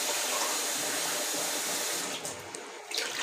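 Water pours from a glass into a pot of rice in a kitchen, a steady rushing splash that fills most of the stretch before thinning into a few final drips and splashes.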